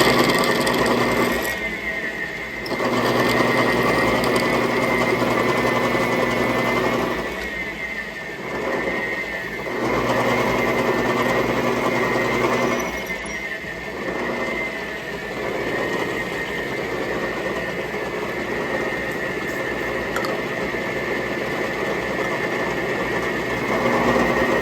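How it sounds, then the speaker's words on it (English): A lathe turret drills a hole about an inch deep with a 21/64 drill bit: a steady mechanical whir and rattle of turning gears, broken by a few brief dips in level, with no talk. "I'll chuck it up in the old turret, and I'll bore it in probably about an inch."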